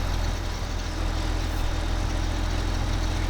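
A tractor engine in the farming game Farming Simulator 2015 runs at a steady, loud drone, a constant low rumble with no change in pitch or level and no voices.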